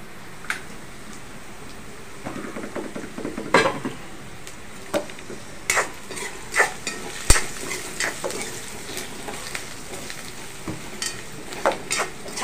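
Spiced onion masala with turmeric and coriander powder fries for a bhindi dish while a spoon stirs it in the pan, giving a steady soft sizzle broken by repeated sharp scrapes and clinks of the utensil, close up with no talking.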